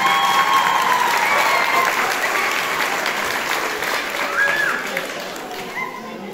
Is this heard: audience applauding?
yes